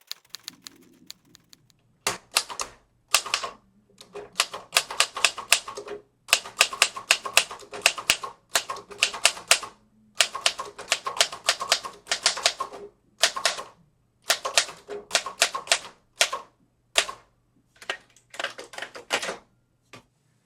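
Typing on a 1948 Remington Rand De Luxe mechanical typewriter: close, crisp bursts of rapid key strikes with short pauses between runs, each clack sharp and percussive, heard alone without speech.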